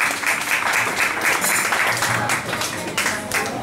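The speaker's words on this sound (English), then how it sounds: "Thank you, ladies. Round of applause." Audience at a tech and web meetup clapping, a moderately loud round of applause with uneven bursts, and voices faintly mixed in beneath it.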